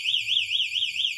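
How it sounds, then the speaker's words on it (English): A small battery-powered door or window alarm sounds continuously up close, a loud, high-pitched warbling electronic siren with no talking. "So if somebody opens up that door or slides that window, it's going to alarm"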